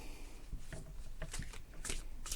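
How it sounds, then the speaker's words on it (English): Thoth tarot cards being shuffled by hand, a soft papery rustle with brief flicks and slaps over a steady hiss, close but quiet, with no talking. "do usually shuffle overhand nowadays currently"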